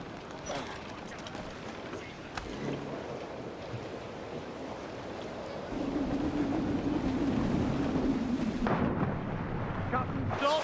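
A sailing ship on open sea in Assassin's Creed Black Flag, with continuous wind and surf rushing behind shouted crew voices, plus a thud and rising water noise partway through.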